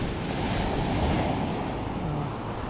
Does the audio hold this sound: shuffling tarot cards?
no